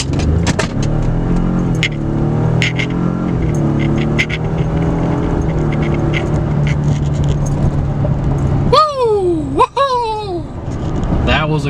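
A 2018 Ford F150 XLT with the 3.5 EcoBoost engine accelerates from 0 to 60 in sport mode. Close, loud engine drone builds, then revs climb sharply through quick gear shifts, with some voice in the cabin.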